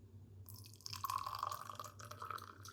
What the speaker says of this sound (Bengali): কাপে আমি মধু আর লেবুটা দিয়ে রেখেছিলাম, সেখানে আমি ছেঁকে নেব পানীয়টাকে।